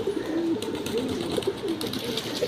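Young pigeons cooing near water at bath time, soft low repeated coos close by over a murmur of background noise.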